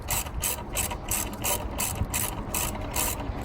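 Rapid, steady ratchet clicks from a wrench tightening a transmission mount bolt on a 2015 Nissan Versa, close and fairly loud with a regular pulsing rhythm and no talking.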